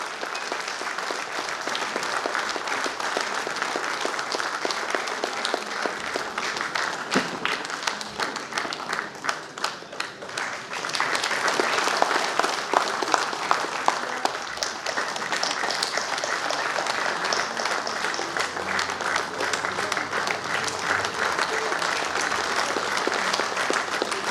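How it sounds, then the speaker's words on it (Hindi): Sustained applause from an audience at a bank officers' felicitation program, many hands clapping in a dense, even roar that swells briefly midway and continues steadily throughout, with faint voices underneath. "एक तो तालियां बजती होनी चाहिए"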